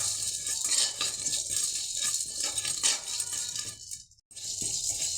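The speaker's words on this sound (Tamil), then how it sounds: "சீரக மிளகையும் வறுத்து எடுத்துடலாம்." Cumin seeds and black peppercorns dry-roasting in a pan for a spice powder, a steady crackling, rattling patter of seeds shifting over hot metal, with a brief pause near the end before the scraping resumes.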